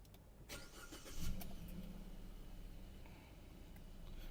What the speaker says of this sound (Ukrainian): Автомобіль завівся рівненько. Працює двигун рівно, чисто,